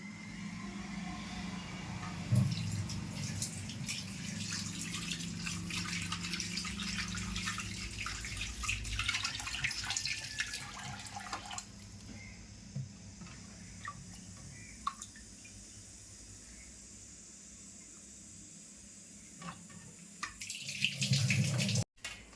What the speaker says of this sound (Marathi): आता ना मासे धुवून घेते